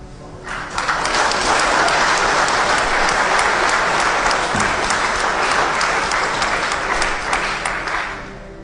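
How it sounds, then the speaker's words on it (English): A lecture audience breaks into loud sustained applause, a thick crowd of clapping hands that swells in quickly, holds steady and eases off at the close. "Why are you applauding that?"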